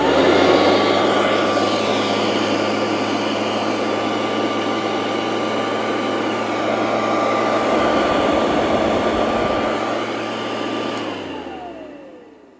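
A Royal Classic 9089 upright vacuum cleaner in need of work runs steadily up close, a loud constant motor whine with a droning hum that winds down near the end.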